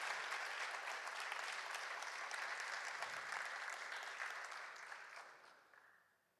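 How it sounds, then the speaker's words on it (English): Audience applause at a student film festival awards ceremony, dense and steady from a large room, then fading out over the last couple of seconds. "Let's give her another round of applause"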